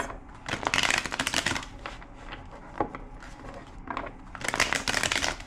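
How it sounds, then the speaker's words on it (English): Deck of cards being shuffled up close, with two bursts of riffling crackle separated by a quieter stretch of handling and a few soft taps. "Two more shuffles."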